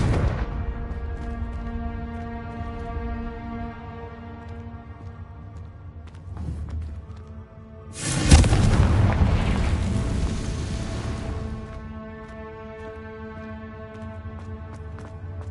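A Confringo blasting spell from the Hogwarts Legacy video game goes off with a single loud, sudden burst that rumbles for a few seconds over a soft, sustained musical backdrop.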